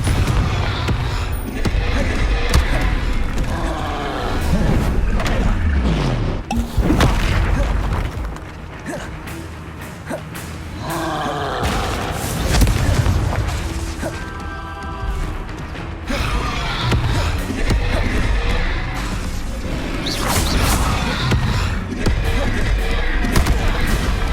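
Confringo blasting spells exploding in Hogwarts Legacy, loud dense booms and crashes repeating throughout amid continuous game music and effects, with brief voice bits.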